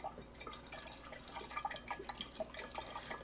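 Fire cider liquid poured too quickly into a bowl, making a run of light drips and splashes that patter unevenly, fairly quiet and close.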